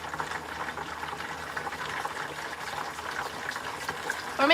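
White ceramic glaze sloshes and splashes in a container, a steady churning liquid sound at moderate level throughout.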